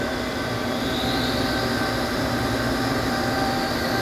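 Spindle of an Awea/Yama Seiki SP3016 bridge-type vertical machining center running at 1,000 RPM, a steady loud broadband whir with a faint high tone, unbroken throughout and with no voices.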